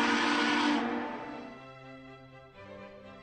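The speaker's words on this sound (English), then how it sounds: "The Polar Express let out a loud blast from his whistle and sped away." A loud, breathy steam whistle blast that starts strong and fades away over a couple of seconds.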